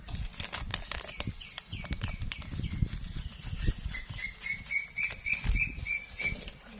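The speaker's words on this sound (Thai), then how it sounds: "เสียงนกกับเสียงนก" Birds chirping in short, repeated calls outdoors, with rustling and pattering noises underneath.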